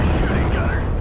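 Loud, dense explosive rumble of artillery fire in the WWII strategy game Steel Division Normandy 44, a continuous heavy boom filling the whole second with roaring low end.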